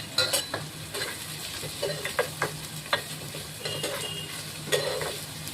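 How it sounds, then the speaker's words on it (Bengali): Onions sizzle in lightly heated oil in a kadai while a utensil scrapes and stirs the pan in short, irregular strokes. "এবার আমি পেঁয়াজটা কড়াইতে দিয়ে দিচ্ছি। তেলটা হালকা গরম হয়েছে।"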